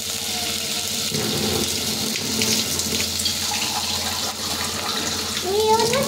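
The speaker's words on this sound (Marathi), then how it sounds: "थोडंसं पाणी टाकायचं." Water runs and splashes into a pan for cooking homemade village-style shevaya, a steady close pouring wash with a faint high trickle near the end.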